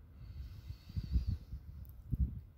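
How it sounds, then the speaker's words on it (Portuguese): A slow, deep breath during a guided meditation, the air rushing softly in and out in a few breathy waves, close and quiet. "fazendo uma respiração profunda"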